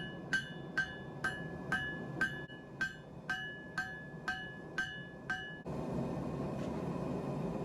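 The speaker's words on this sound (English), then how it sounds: "We're just gonna keep forging." A hammer forges chainsaw chain into a knife with about a dozen loud, evenly spaced metallic blows that ring briefly, followed by a steady broadband hiss once the striking stops.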